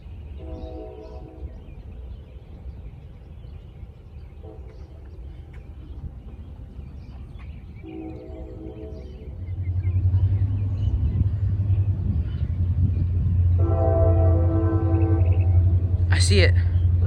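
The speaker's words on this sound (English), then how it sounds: "Sounds like C711. That's the type of horn that it would have." A CSX freight train rumbles low and steady, heavier from the middle on, while a C711 air horn sounds several blasts at a distance, the longest near the end.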